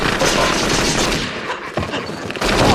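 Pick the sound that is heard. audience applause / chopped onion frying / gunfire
gunfire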